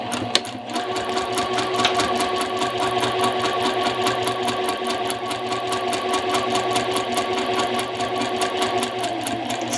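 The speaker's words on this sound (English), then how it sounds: "Stitch off of the edge a few stitches" A sewing machine stitches fabric along the edge of a garment piece, running steadily at a fast even rhythm, close and continuous with no pauses.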